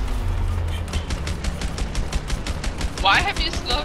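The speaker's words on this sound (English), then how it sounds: "So I'm shooting now" Rapid gunfire in the video game A Way Out comes as a fast, steady string of sharp shots over a low engine rumble, with a brief metallic clatter near the end.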